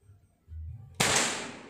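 A single sharp shot from a Marauder dual-tank air rifle firing Hercules pellets at 25 meters: a sudden loud, close crack with a brief decaying tail, preceded by a faint low hum and handling noise.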